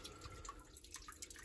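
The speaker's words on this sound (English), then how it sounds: "Just drain the water down so I can take the radiator out." Coolant water draining from the radiator of a Subaru Impreza stage rally car during a build, a steady close trickle and drip running throughout.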